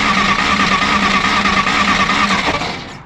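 A 1953 Willys Jeep CJ-3B engine cranks over with a steady, loud, rapid churning that holds for about two and a half seconds before winding down without catching.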